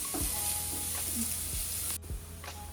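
Garlic fries to golden brown in a pan for stuffed kantola curry: a soft, even sizzle with a few light utensil taps, brief and fairly quiet, with no one speaking.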